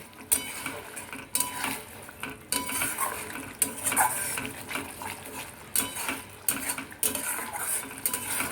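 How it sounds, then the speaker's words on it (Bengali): Spiced masala with yogurt being stirred in a pan for egg korma, a spoon clattering and scraping repeatedly against the metal over a faint sizzle, close up. "দইটা দিয়ে আবার খুব ভালো করে নাড়াচাড়া করতে হবে আবার মেশাতে হবে"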